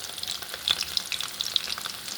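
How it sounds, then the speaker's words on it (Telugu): Beans bajji frying crisp in hot oil, a dense, bright bubbling sizzle with sharp crackling pops, close and steady throughout with no talking. "అలా వేసుకుంటేనే మనకి బాగా క్రిస్పీగా క్రంచీగా ఫ్రై అవుతాయండి"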